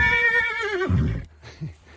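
A horse whinnies loudly for about a second, its shrill call falling in pitch, followed by snorting and faint low rustling.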